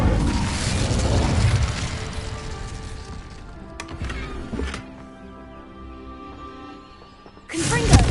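The Incendio fire spell in Hogwarts Legacy bursts out loud at first, then fades into a crackling magical whoosh with ringing tones, and a second burst follows near the end.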